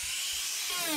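A masonry blade on a 4.5-inch angle grinder whines at a steady high pitch, running continuously and close by for the full second with no voices.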